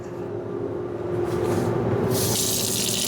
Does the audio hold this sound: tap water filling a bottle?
yes